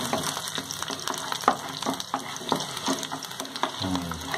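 Cumin seeds sautéing lightly in hot oil for tomato chutney, a continuous close crackling sizzle broken by frequent sharp spoon scrapes and taps against the pan, with no talking.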